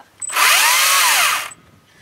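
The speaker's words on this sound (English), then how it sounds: "But because it's electric, it's got a brake in it. When you let go of the trigger, there's very little coast in the chain, and it stops right away." A battery-powered electric chainsaw revs up sharply, runs at a high whining pitch that dips slightly in the middle, then cuts off abruptly as the chain brake stops it, with no speech.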